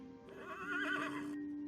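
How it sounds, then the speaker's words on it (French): A horse in a video game lets out a single drawn-out whinny, rising and wavering for about a second before trailing off, fairly faint and heard alone over a steady low hum. "Je crois que le hennissement venait de là-bas."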